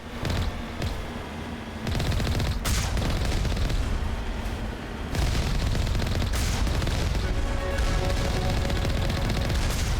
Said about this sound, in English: Yes, I can, given how they are shooting at me.